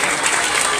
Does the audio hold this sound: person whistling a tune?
no